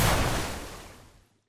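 Water spell projectile firing in an Unreal Engine 5 game demo: a single broad whooshing, splashy burst that starts loud and trails off over about a second and a half, heard alone.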